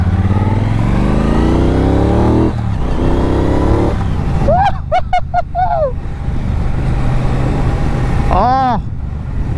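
A 2022 Triumph Bonneville Bobber motorcycle engine rumbles while riding, with rising and falling revs through gear changes, then sharp bursts of throttle blips; wind noise runs throughout.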